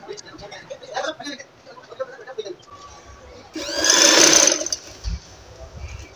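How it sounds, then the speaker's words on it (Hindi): A sewing machine stitches a kurti neck button placket in one loud, close burst of rapid whirring, framed by someone talking before and after it. "अब हमने इसी तरह सिलाई को सीधा बिल्कुल लेकर जाना है"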